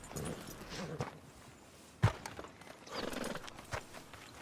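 Horse hooves clip-clop at a slow walking pace in the video game Red Dead Redemption 2, with a sharper thud midway and a quiet ambient background.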